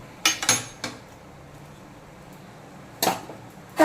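A few sharp metallic clatters as a lid is set and adjusted over a pot of jhinge curry, two quick knocks then a pause before another clink, close and otherwise quiet.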